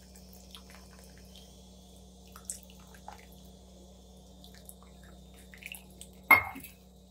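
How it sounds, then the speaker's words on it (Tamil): Tamarind water is poured into a pot of mango and drumstick sambar: a few faint drips over a quiet kitchen hum, then one short, sharp splash of liquid near the end. "இப்போது நம்ம எடுத்து வச்சுருக்க புளி ஊற்றிடலாம்."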